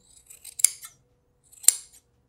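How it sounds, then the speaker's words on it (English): Scissors snip through wool pile on a handwoven piece, two distinct sharp cutting strokes about a second apart, close and clear in a quiet room. "you're carefully going to cut this, just making sure you do not cut your warp"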